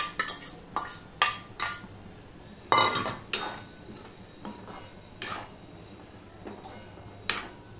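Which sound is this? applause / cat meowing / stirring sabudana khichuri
stirring sabudana khichuri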